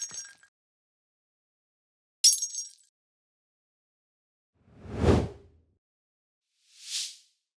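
Four separate whoosh sound effects play in silence, two thin bright swishes, then a fuller swoosh with low body, then a final airy one, each short and cleanly spaced apart.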